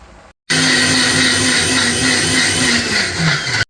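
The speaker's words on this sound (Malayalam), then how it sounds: "തൈരൊക്കെ കൂടി അരച്ചു കേട്ടോ" A mixer grinder whirs loudly and steadily as it grinds coconut, cumin and green chilli into a paste with curd, starting abruptly after a brief quiet moment and stopping sharply a few seconds later.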